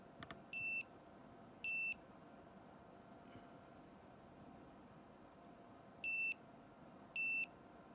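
A Multicomp Pro MP780053 non-contact voltage detector emits four short, loud electronic beeps, two close together early and two later, over a steady background hum, with no talk.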